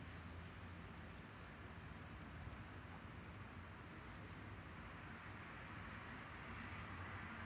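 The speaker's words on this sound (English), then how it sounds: "I wonder if you can hear all these bugs in the background." A steady, high insect chorus of crickets chirping continuously in the background, with a low rumble underneath and no voices.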